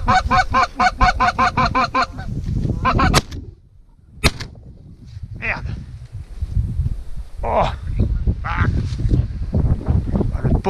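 Geese honk in a rapid, loud series in Saskatchewan, then scattered calls return after a sharp crack and a brief lull, with people talking over them.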